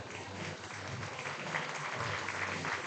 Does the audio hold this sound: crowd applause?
yes